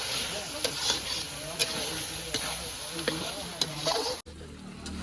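Chicken coated in chicken masala sizzles loudly in a pan while being stirred, with repeated scraping strokes over a constant frying hiss that cuts off abruptly near the end as people talk nearby.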